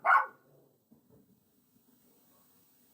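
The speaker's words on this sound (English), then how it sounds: "Coco, no bark." A pet dog gives one loud, sharp bark at the start at close range, then only faint low rustling and a quiet room remain.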